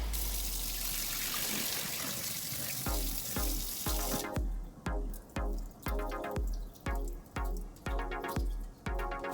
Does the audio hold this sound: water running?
yes